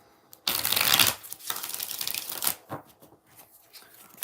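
Tarot cards are shuffled in bursts during a live reading: a loud riffle of rapid card flicks, then a longer softer shuffle and scattered taps as the deck is handled, close and alone without speech.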